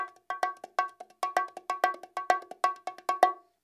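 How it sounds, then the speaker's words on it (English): Bongos play a repeating boogaloo pattern, crisp slaps and tones in a quick double-time rhythm, close and clear with no voices. "it's really just the beginning of what we might call a boogaloo pattern."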